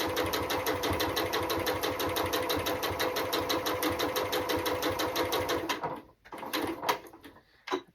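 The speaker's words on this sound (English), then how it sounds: "Put in some back stitches" A sewing machine stitches a baby burp cloth in a steady, rapid run of needle strokes for about six seconds, then stops, followed by a few brief clicks and handling noises.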